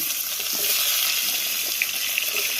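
Mixed vegetables frying together in hot oil for a helencha greens dish, giving a steady, close, dense sizzle and hiss that runs without a break and with no talking.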